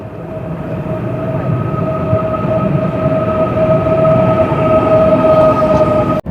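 A bullet train at the modern Samarkand railway station bound for Tashkent, giving a loud, continuous rolling rumble with a steady high tonal whine, close by and without voices until an abrupt cut at the end.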